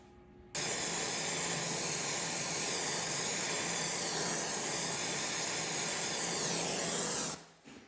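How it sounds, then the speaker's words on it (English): A plasma cutter slices through steel plate to cut out large washers, a loud, steady hissing roar starting abruptly and running about seven seconds before cutting off, close up with no talking. "I'll plasma out some bigger washers now"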